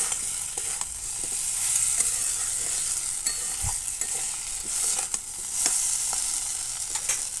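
Pointed gourd and potato curry sautéed and stirred in a pan: a steady close sizzle with scattered scraping spoon strokes, no talking.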